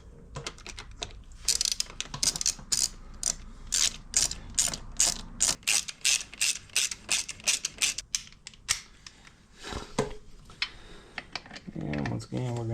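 A torque wrench ratchets in quick bursts of sharp clicking while tightening bolts on a Kawasaki Z400 motorcycle wheel during an at-home tire change, close and crisp, with brief pauses and a few metallic clinks.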